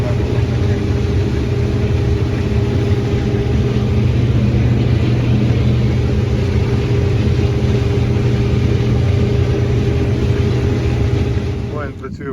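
Combine harvester working a corn field, a steady heavy engine drone with constant low rumble and broadband mechanical noise throughout, fairly close and continuous, fading slightly at the end.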